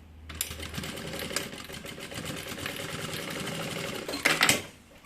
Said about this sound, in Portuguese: Vai fazer uma costurinha aqui.